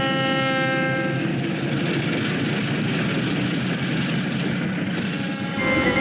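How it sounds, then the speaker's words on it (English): A diesel freight train starts moving again after coupling, with a steady, loud rumble of rail wagons and engine throughout, a faint horn-like tone and rising clatter near the end. "Soon both wheels were coupled up and the train restarted."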